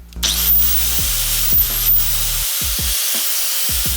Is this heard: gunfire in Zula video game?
no